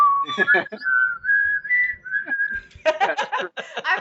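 Someone whistles the X-Files theme, a short, eerie melody of sustained notes, close and clear, with people talking just before and right after.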